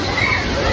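Water sloshing and splashing at a water park in Bahria Town, Karachi, a continuous wash of churning water with a crowd's babble of voices mixed underneath.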